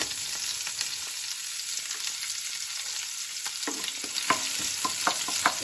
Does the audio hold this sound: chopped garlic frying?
yes